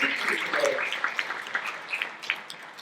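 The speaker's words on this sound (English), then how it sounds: "So please, let's have an applause and welcome these women coming all over the world to speak to you today." An audience at a women's climate justice gathering claps to welcome the speakers, a fairly faint, moderately distant patter of many hands with individual claps standing out, fading slightly toward the end.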